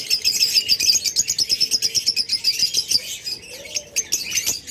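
A pet pair of budgerigars or lovebirds, an opaline pair, chirps in rapid, bright, repeated tweets, close and lively, with short bursts overlapping and a few brief wing flutters.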